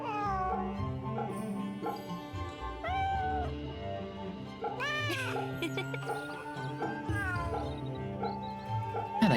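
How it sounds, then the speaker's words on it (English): A calico cat in the video game Fate/Samurai Remnant meows several times over a continuous layer of in-game music and ambience, the cries rising and falling in pitch, moderately loud. "I like all cats, but like calicos are really pretty."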